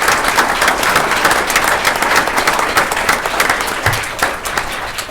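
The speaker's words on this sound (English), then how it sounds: "Let's give them a round of applause, please." An audience claps in sustained, steady applause for teachers at a school district State of the Schools address, a dense wash of hand claps with no voices over it.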